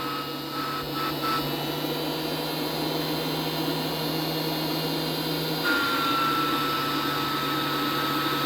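A new vacuum cleaner turbine rigged as a DIY air blower for a biomass gasifier runs steadily, a close, even motor whine and airy rush that holds throughout with a slight shift in tone near the end.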